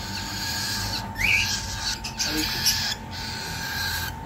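A young cockatiel's short, bright chirping calls, loud and close against a constant steady background hum, with a couple of brief louder bursts.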